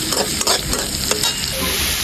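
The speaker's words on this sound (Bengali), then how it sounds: "পেঁয়াজটা একটু ভাজা ভাজা করে নেব" Onions and dried chillies frying in oil in a wok, a loud continuous sizzle with rhythmic stirring scrapes close by, no talking.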